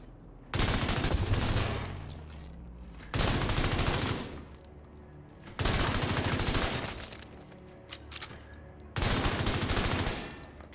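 Bighorn rifle fire in The Division 2 arrives as four loud bursts of rapid gunshots, each lasting roughly two seconds and separated by short quieter gaps.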